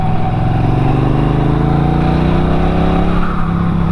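A Norton Commando 961 SP motorcycle pulls hard under acceleration, its loud exhaust note rising steadily in pitch over a few seconds before easing off.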